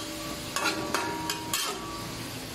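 Sautéed lumpia filling in a pan, sizzling softly and steadily after a splash of water, with a few sharp clinks and scrapes of a utensil stirring against the pan.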